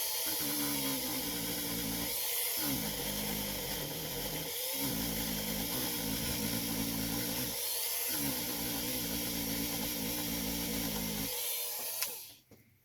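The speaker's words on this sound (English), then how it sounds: "Get a Dremel with a buffing wheel. Buff it." A Dremel rotary tool with a buffing wheel polishing a sanded part from a vintage Bulova watch, whining steadily with brief dips where the tool eases off the part, then stopping abruptly near the end.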